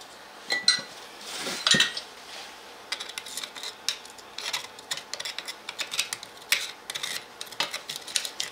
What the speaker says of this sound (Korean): 이렇게 일자 드라이버나 아니면은 이런 플라스틱 재질 같은 납작한 걸로 긁어서 타르를 제거를 해주면 되겠습니다.